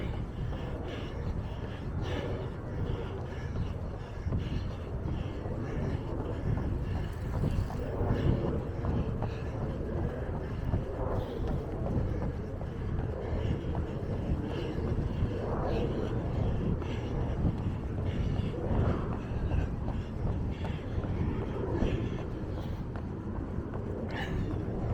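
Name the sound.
wind blowing into the microphones while running by a jetty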